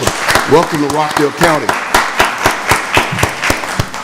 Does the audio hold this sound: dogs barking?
no